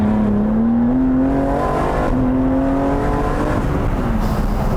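A rear-wheel-drive BMW G80 M3 pulls hard in first gear from a rolling start, its engine drone rising steadily in pitch, loud and close inside the cabin with no talk.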